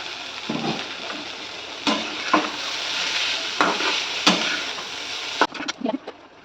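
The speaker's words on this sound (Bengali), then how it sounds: "আলু পেঁয়াজটা ভাজা হয়ে গেছে, এবার চাউমিনটা দিয়ে দেবো।" Chowmein noodles tossed with fried potato and onion in a pan: a close sizzle under repeated scraping stirs of a spatula, with several sharp clacks of utensil on metal near the end.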